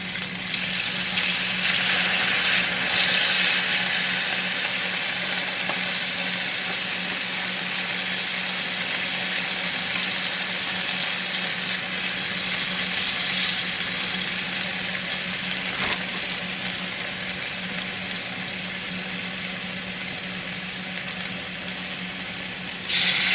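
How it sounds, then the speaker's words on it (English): Food sizzles steadily in a frying pan at home, a continuous bright hiss with crackling pops, fairly close and loud, with no talking over it. "Oh, it's really sizzling right there."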